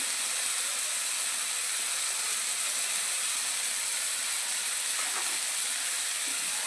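Salt and turmeric sautéing in a hot pan for a Mumbai street-style anda ghotala, giving a steady, even sizzle and hiss that runs unbroken throughout with no voices.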